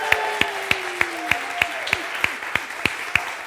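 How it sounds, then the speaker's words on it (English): Congregation at a Sunday church service claps in a steady round of applause, sharp regular claps standing out over a sustained crowd patter, with faint voices briefly underneath. "now we could do a big old round of applause and welcome"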